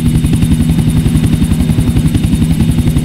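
A helicopter in the video game GTA 4: The Ballad of Gay Tony gives a loud, close, steady rotor drone with fast rhythmic blade chop and a constant engine whine, and no voices over it.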